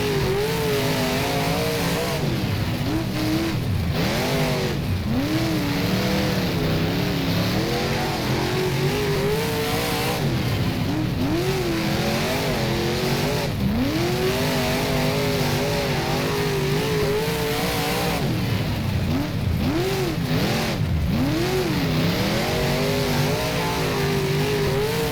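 A Big Block Modified race car engine in the rFactor racing game, lapping a dirt track at Chowchilla Speedway, drones loudly and continuously with rising and falling revs as it accelerates and backs off through the corners.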